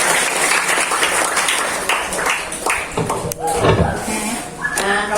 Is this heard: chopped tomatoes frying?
no